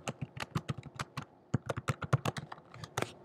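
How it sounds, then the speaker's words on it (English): Fingers typing on a computer keyboard, a quick irregular run of crisp, close key clicks with short pauses, steady and moderately quiet with no talking. "So I'll click in the box and I'll type"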